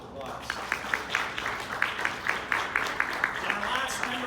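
Audience at a Houston Texans sports business event applauds. The clapping is fairly distant and continuous, with an irregular pattern of sharper claps over the crowd.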